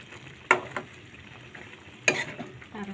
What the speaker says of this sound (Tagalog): Ayan, haluin natin.